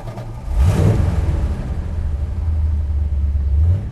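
Dodge Challenger R/T with a 440 V8 six-pack and manual gearbox pulling away, its deep engine rumble swelling as it accelerates, then settling into a steady, loud low drone close to the listener.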